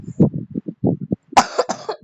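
A person at home gives a harsh, close cough as a short burst after a run of quiet, low murmured sounds.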